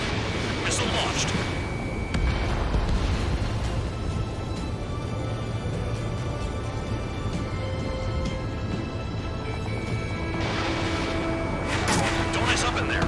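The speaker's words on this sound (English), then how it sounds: "Missile launched." Missile launches from a fighter jet in the combat flight game Ace Combat 7 roar over a dense rumble of engine noise and booming blasts, with bursts of crackling noise at the start and end.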